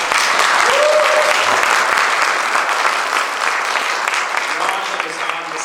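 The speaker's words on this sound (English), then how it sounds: "give him a round of applause" Audience applause at a Korean-American community event with a New York state senator, loud and dense clapping from a sizeable crowd that starts at full strength and tapers slightly over several seconds, with faint voices underneath.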